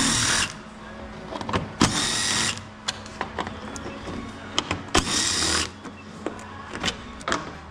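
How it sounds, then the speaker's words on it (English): A power tool loosening 10mm bolts on a GMC Yukon headlamp assembly whirs in two loud close bursts, each about a second long, separated by quieter clicks and handling of the tool. "We're gonna take those 3 bolts loose."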